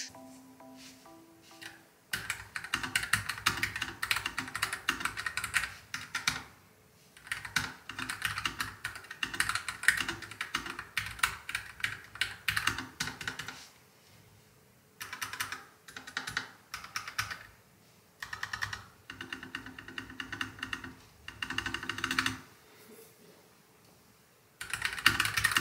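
Typing test on a low-profile gaming keyboard fitted with Gateron Red switches: steady bursts of soft, fast key presses with short pauses between runs, close up and alone.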